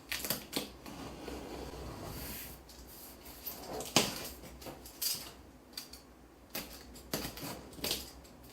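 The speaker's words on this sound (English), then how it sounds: "We'll cut the bottom tape." Bottom packing tape on the box of an HP OfficeJet Pro 7740 printer being cut, heard as quiet scratchy rasps and scattered sharp clicks and crackles over several seconds.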